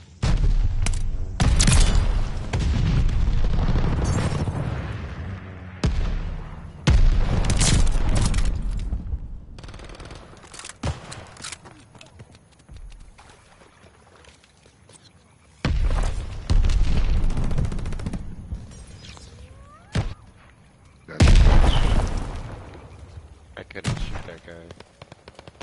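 In the video game Call of Duty: Vanguard, aircraft strafe the ground in a hardcore team deathmatch. Loud bursts of rapid gunfire and booming impacts come in repeated waves with quieter gaps between them, and voices are heard in places.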